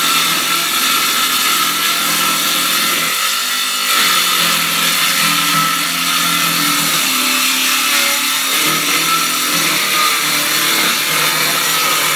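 A power saw rips through a plywood sheet outdoors, a loud steady whine with bursts of cutting, alone throughout.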